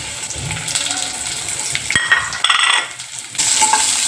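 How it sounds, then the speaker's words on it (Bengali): Boiled olives tipped into a pan of hot spices for olive pickle and stirred, a close wet sizzle with scraping and shuffling stir sounds that rises as they land and keeps frying steadily. "আর এই যে সিদ্ধ করা জলপাই ঢেলে দিলাম।"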